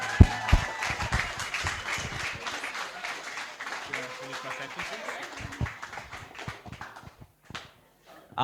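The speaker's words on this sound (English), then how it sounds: "let's put a big round of applause for them" Wedding guests break into applause for the couple during the speeches, a moderate, uneven clatter of clapping that carries on for several seconds, then thins and trails off into near silence.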